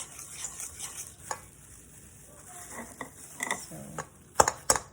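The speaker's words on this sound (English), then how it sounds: "And we're just going to stir it." Spoon stirring brownie batter in a bowl, a soft scraping and clicking texture with a few sharper knocks toward the end, fairly faint and close.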